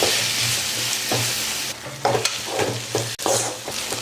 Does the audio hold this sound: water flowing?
no